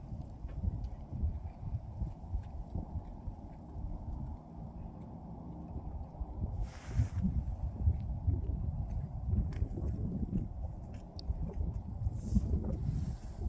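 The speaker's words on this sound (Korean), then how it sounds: "바람 많이 부네 여기는" Strong wind blows steadily across a mountaintop at Heukseongsan during car camping, a constant low roaring buffet against the microphone with gusts swelling and easing, and no voices.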